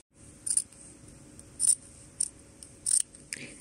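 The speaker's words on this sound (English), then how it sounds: "And then we're going to cut it open." Small, sharp-pointed scissors snip through dress fabric to open a pocket, four or five crisp, close cuts in an uneven rhythm against a quiet background.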